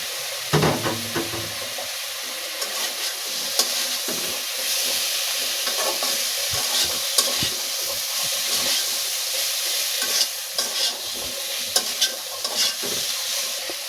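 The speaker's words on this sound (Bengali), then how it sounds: "মশলার সাথে কলা আমি 2 মিনিটের মতো কষিয়ে নিচ্ছি" Green banana being stir-fried with turmeric and spices in a pan for a Bengali fish curry: a continuous close hiss and sizzle with frequent scraping stirs throughout, no talking.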